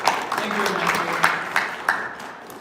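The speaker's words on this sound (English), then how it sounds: "Can we give a round of applause for all that stuff you're doing?" Audience at a SharePoint Fest Chicago 2018 discussion panel gives a round of applause, clapping that trails off over a couple of seconds while a voice talks over it.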